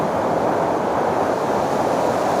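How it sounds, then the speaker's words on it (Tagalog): Floodwater rushes down a flooded road in Montalban, Rizal, a loud, unbroken roar of churning water with wind buffeting the microphone and no speech. "Ang bihira, napakalakas ng baha."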